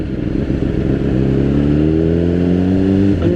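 A motorcycle engine revs up steadily, its pitch rising with a throaty exhaust rumble, loud and close throughout.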